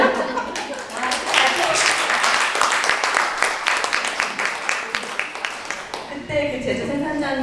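Audience clapping during a Korean talk event on hospitality, a dense, steady spread of claps lasting several seconds, with voices and some chuckling mixed in and a speaking voice emerging near the end.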